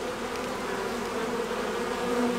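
Honeybees drone steadily inside an opened beehive that already holds brood, a dense, close, continuous buzz with no pauses and no voices.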